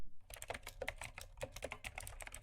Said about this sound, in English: Typing on a mechanical keyboard.